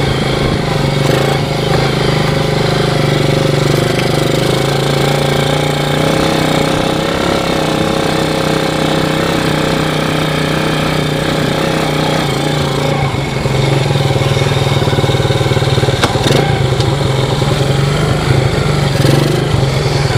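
A Yamaha Moto4 ATV engine runs loud and close while being ridden along a recut overgrown trail, a steady droning putter with slight shifts in pitch and load.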